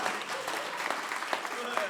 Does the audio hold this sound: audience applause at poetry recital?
yes